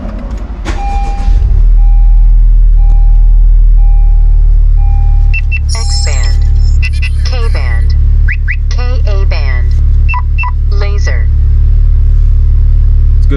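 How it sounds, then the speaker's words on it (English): A Honda Civic Type R engine cranks and catches, then settles into a steady low idling rumble, with a few chirping electronic beeps over the top. "let's start the car"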